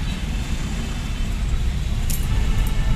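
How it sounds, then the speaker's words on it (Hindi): A steady low rumble fills the cabin of a moving car in heavy traffic, with a brief light jingle near the end and no clear outside vehicles standing out. "अभी फाइनली हम लोग गाड़ी में आ गए और जा रहे हैं घर की तरफ, बुआ जी घर की तरफ. बहुत ट्रैफिक है, बहुत ज्यादा."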